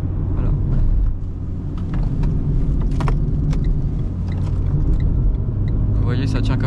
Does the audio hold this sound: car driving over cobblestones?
yes